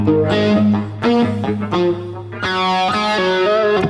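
Electric guitar run through a thunderstorm effect pedal, playing loud sustained distorted chords with heavy modulation and rumbling low end, close and continuous.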